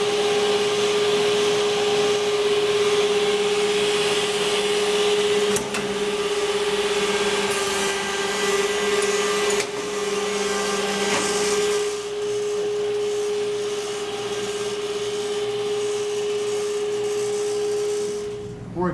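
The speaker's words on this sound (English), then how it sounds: "Technoma edge bander, made in Italy." Technoma edge bander made in Italy, running in a cabinet shop with a dust collector, gives a steady loud machine whine with a strong constant hum, continuous throughout with a slight drop in intensity midway.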